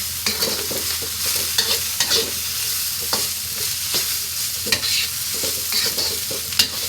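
Rice with carrots, peas and Chinese char siu roast pork being stir-fried in a hot pan, with steady sizzling broken by repeated scraping and tossing strokes, close and fairly loud, with no talking.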